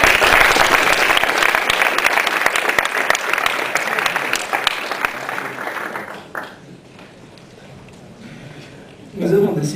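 Warm audience applause at a film festival award ceremony, loud and dense for about six seconds before fading out; a brief voice or sound returns near the end.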